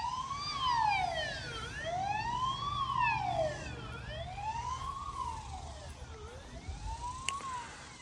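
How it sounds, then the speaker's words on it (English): A fire department siren wailing in repeated rising and falling sweeps on a farm during hay baling, moderately loud and steady with no speech. "here comes the fire department"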